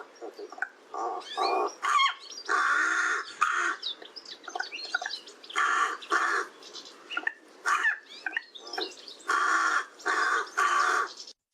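Irish wild black bird delivers an intricate song of harsh caw-like phrases, clicks and high-pitched jumps, repeated in short bursts with brief pauses, heard close and clear without talk.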